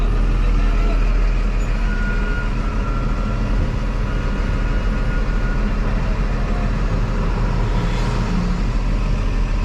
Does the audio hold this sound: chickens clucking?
no